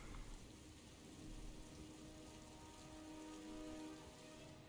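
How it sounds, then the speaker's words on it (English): Rain falling in the Mass Effect 3 video game, a steady faint hiss of drops on surfaces throughout, with no voices over it. "Damn you, rain!"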